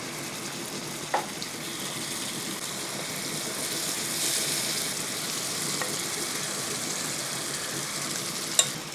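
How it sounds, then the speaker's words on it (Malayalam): Prawns fry in hot oil with a soft, steady sizzle heard nearby at moderate volume, marked by a couple of faint clicks from a utensil, with no voices. "ഇത് നമുക്ക് ബാക്കിയുടെ ഇതേ രീതിയിൽ തന്നെ ഒന്ന് ഫ്രൈ ആക്കി എടുക്കണം"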